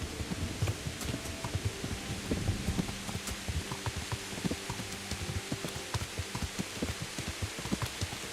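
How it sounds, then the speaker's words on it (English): Steady rainfall in the medieval game Kingdom Come: Deliverance, a continuous moderate patter with soft low thumps scattered through it, heard alone. "It's just endless raining."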